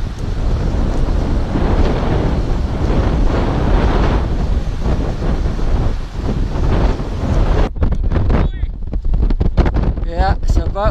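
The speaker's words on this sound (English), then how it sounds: "Yeah, it's a bit windy." Strong coastal wind roars and buffets the microphone in a loud, continuous rush, easing near the end as faint voices come through.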